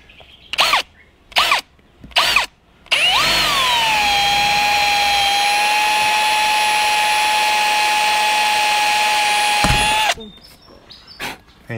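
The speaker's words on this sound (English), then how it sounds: "it's always nerve-wracking when you get a drill through your van" A power drill whines steadily for several seconds at close range, drilling through a caravan's thin aluminium wall, preceded by a few short bursts and ending abruptly.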